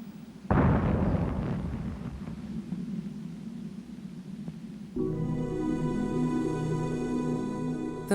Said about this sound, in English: The fourth rocket also blew up.